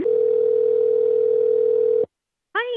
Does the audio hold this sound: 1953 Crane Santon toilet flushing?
no